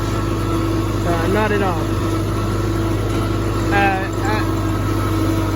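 A 1971 Cub tractor's small engine idles with a steady, close, rumbling drone throughout while someone speaks briefly over it.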